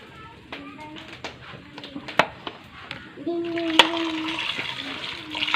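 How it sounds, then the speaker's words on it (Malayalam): Raw chicken pieces for a country-style chicken curry are washed in water, with intermittent splashes and sloshing that grow busier toward the end while a voice talks over them. "ചിക്കൻ കഴുകാൻ പോവാം. വൃത്തിയായിട്ട് കഴുകണം."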